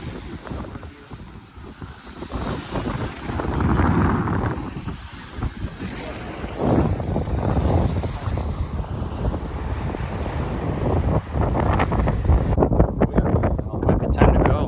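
Strong wind buffets the microphone at an ocean shore at high tide, a loud continuous roar and rumble mixed with waves washing in, with a person talking briefly.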